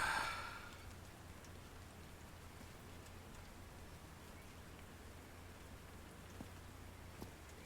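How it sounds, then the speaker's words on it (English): Rain falls steadily in the video game Call of the Sea, a soft continuous hiss of drops at moderate level with no one talking over it. "It's a bit rainy up here."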